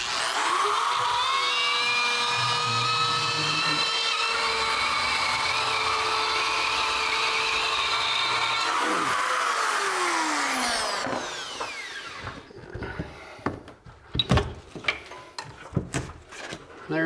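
Power tool cutting an opening in a bathroom wall for a shower box during a shower install, a steady loud whine with shifting harmonics for about eleven seconds, then stopping and giving way to scattered knocks and clatter.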